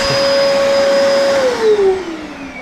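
Bagged vacuum cleaner running close and loud with a steady whine whose pitch drops partway through, as if the suction changes.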